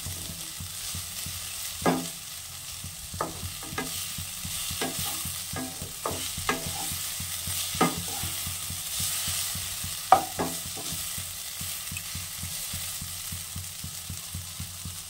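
Radish sizzles steadily as it fries in a pan, with a series of sharp scraping stirs breaking through the constant hiss; close and fairly quiet, with no voices.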